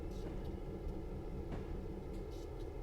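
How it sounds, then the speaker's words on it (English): A locomotive engine in Train Simulator 2020 on a US route gives a steady, low, droning rumble that stays constant and fairly faint, with no speech over it. "The engine is louder than the horn itself."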